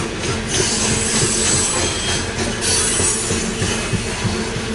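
A BNSF/Union Pacific freight train with a distributed power locomotive rolls past at the rail diamond in western Fremont, making a loud steady rumble with rhythmic wheel clatter and a few faint squeals.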